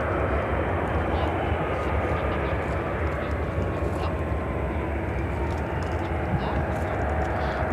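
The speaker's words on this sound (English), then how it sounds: "So Lufthansa heading to 28 right." A Lufthansa jet taxiing toward runway 28 right at Chicago O'Hare gives a steady, broad engine roar, constant and moderately loud throughout, with faint voices beneath it.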